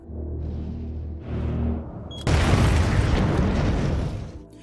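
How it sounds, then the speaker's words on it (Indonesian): A time bomb in a 2022 action film explodes suddenly and loudly after low rumbling tones, its roar sustaining for a couple of seconds before fading out. "Setelah bom itu meledak, semua zombie pun berlari mendatangi suara ledakan tersebut."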